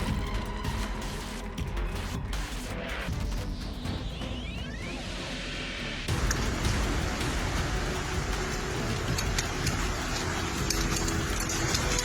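Persistent rain falls in China after a hailstorm, a steady dense hiss that grows louder and fuller halfway through, with scattered crackles and whooshing sounds in the first half.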